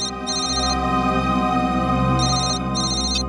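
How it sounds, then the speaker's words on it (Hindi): A mobile phone rings with a steady electronic tone that repeats in pulsed bursts, loud and continuous throughout the clip, with no voices. "मोबाइल कंपनी से फोन था।"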